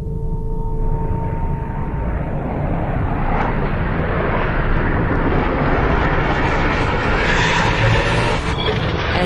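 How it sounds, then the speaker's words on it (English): A single-seat FA-18 Hornet jet trapping on a carrier deck with the arresting cable straining, a loud continuous roaring rush of engine and wind that swells and stays heavy throughout, close and overwhelming. "As this single-seat FA-18 Hornet traps, the arresting cable stretches to the breaking point."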